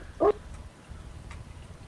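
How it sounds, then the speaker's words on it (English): A dog gives a single short, fairly loud bark that stands out near the start, followed by quiet room background. "Every time he tries to talk, his dog is just like, no."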